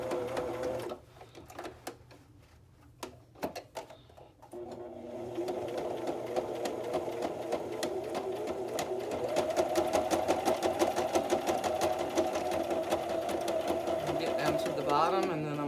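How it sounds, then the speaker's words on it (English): A sewing machine stitches through a thick fabric-covered file folder journal, a close, rapid mechanical whirring that starts after a brief pause and runs steadily, with someone speaking over it. "I'm gonna turn it and stitch all the way across the bottom"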